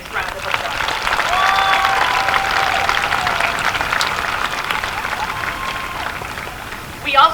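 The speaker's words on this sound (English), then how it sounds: "Let's give those three a nice round of applause." Audience applause fills a high school commencement hall, a steady broad wash of many hands clapping that holds for several seconds, with voices mixed in, and swells briefly near the end.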